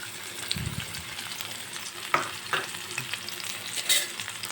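Finely chopped medium onion frying in about three spoons of hot oil in a kadai, a steady soft crackle with a few stir scrapes and brief clinks.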